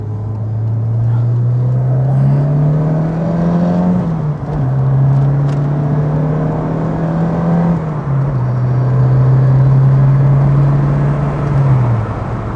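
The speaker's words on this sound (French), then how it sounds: "je trouve que l'effet turbo, on le sent largement aussi bien que dans l'Alpine Turbo" A Renault R5 GT Turbo with a cup-version engine raised to 160 horsepower accelerates hard from inside the car, its loud engine tone climbing steadily through the gears with brief dips at each shift.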